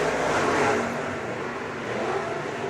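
A loud race car engine roars steadily at Kern Raceway in Bakersfield, rising and easing slightly as it passes, with a continuous broadband rumble and no talking.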